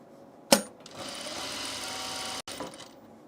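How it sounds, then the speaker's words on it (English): A sewing machine stitches down the hem of an Ascot tunic shirt, starting with a sharp click and then running steadily in a close, even mechanical whir. It stops briefly near the end and starts up again. "to get in here and actually stitch down the hem, because I couldn't before"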